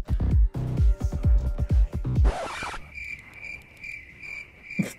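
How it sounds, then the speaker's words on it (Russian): Crickets chirp in a steady, repeating high trill in the video game Dota Allstars, heard after a burst of punchy rhythmic game thumps and a short noisy whoosh. "Серьезно, звук сверчков просто."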